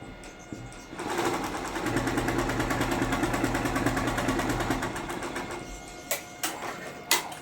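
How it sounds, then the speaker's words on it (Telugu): An embroidery machine stitching mirror work starts up and runs in a loud, fast, even mechanical whir for several seconds, then stops, followed by a few sharp clicks and knocks. "ఇప్పుడు మళ్ళీ నేను ఇది ప్రెస్ చేస్తేనే నాకు మిషన్ అనేది మూమెంట్ అయితే ఉంటుంది."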